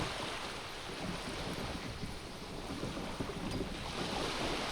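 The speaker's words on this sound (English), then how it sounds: "The wind flaps the sail above her." In Disco Elysium, wind sweeps steadily past a boat sail in a continuous, broad rushing wash with faint flutter, loud and unbroken for the whole stretch.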